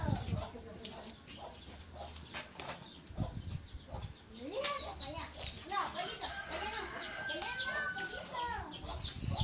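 Chickens cluck and squawk close by in a busy home setting in Oaxaca during tamale making for Christmas Eve, with a wing flap or two and a steady run of clucks over background noise; no talk is heard.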